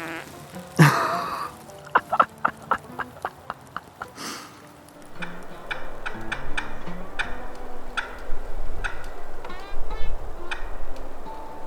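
Merriam's wild turkey gobbling among ponderosa pines in South Dakota, rapid rattling gobbles near the start amid clicking and rustling, then scattered calls and movement noises close by with no talk.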